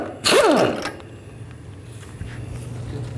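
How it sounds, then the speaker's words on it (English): A 24mm socket loosens the nut on an inner tie rod of a 2010-16 Buick LaCrosse, with a short loud creaking ratchet groan at the start that fades into a quieter mechanical rumble. "I'm going to use a 24mm socket. Take this nut off."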